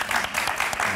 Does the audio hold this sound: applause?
yes